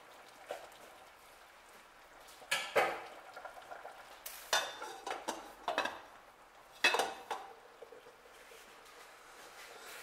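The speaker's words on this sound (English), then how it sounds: "It is boiling." A pot of potato soup boils on the stove, with soft bubbling under a few sharp clanks of a lid and utensils against the pot.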